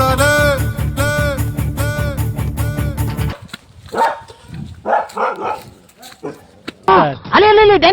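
A dog barks in a rapid rhythmic series of loud, close barks, then voices shout and talk excitedly, followed by another burst of barking.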